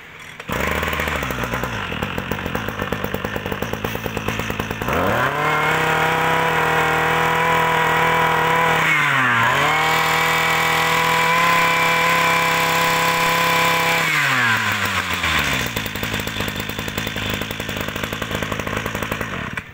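A Ryobi 2350 petrol brush cutter engine idles with a rough buzz, then revs up to a loud, sustained high whine, drops briefly, revs up again and settles back to idle, with no talk.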